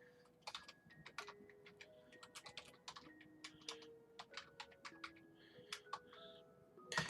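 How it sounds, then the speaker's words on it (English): Computer keyboard typing at a steady pace, a long run of quiet, close key taps under faint tonal beeps, with no speech. "You can see my typing at live speed"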